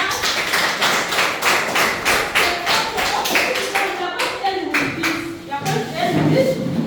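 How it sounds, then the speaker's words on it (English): Children at a Sunday school session clap together, a run of rhythmic, fairly loud claps that loosen toward the end, mixed with singing voices. "Let's clap for Jesus."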